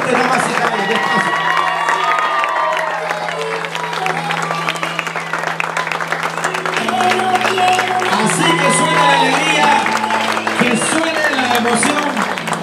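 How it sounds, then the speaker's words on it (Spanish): Guests at a quinceañera party clap and cheer loudly while a held musical tone and melody play underneath, the applause continuous throughout with crowd voices mixed in. "El aplauso más fuerte, nada más y nada más."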